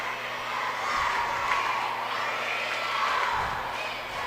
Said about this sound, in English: still a huge crowd here at the middle school tournament